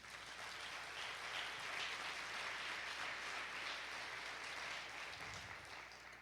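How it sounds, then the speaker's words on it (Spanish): Church congregation applauding during a Spanish-language sermon, a sustained, even roar of many hands clapping at moderate distance, steady for about six seconds before easing slightly. "Dale un aplauso al Señor, hermano."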